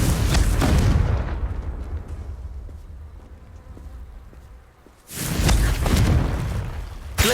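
Two loud, roaring Confringo blast bursts in Hogwarts Legacy, one opening the moment and another a few seconds later, separated by a quieter stretch of faint ambience.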